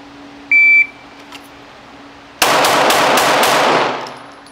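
Firearms at an outdoor shooting range: a short electronic beep first, then after a pause a loud burst of rapid gunshots, about six sharp reports in quick succession with echo trailing off.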